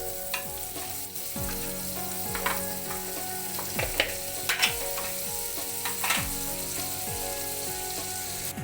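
Butter sizzling and frying in a kadhai on the stove, a steady crackling hiss throughout with occasional louder spatters and a few clinks of a spoon against the pan; no talking.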